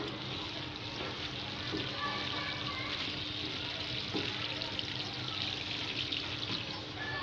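Water is poured onto potted turmeric plants, giving a steady soft splashing and trickling wash that runs unbroken for several seconds at low volume.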